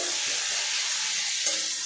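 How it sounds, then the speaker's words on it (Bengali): Crushed garlic and onion frying in a little oil in a pan, a continuous soft sizzle and hiss with faint stirring, no voices. "ভালো করে ভাজা ভাজা করে নেব যতক্ষণ না পেঁয়াজ আর রসুনের কাঁচা গন্ধটা চলে যাচ্ছে"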